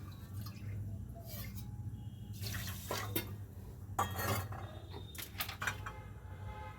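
Water poured from a bowl onto sugar in a kitchen pan, heard as close splashing and dripping bursts with pauses between pours and a steady background hum.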